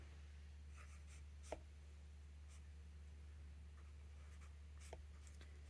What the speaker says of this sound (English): I'm going to write the date on here.